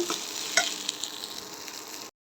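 Moringa leaves fry in a pan with a steady broadband sizzle and a few sharp stirring clicks, close and alone, before the sound cuts off abruptly.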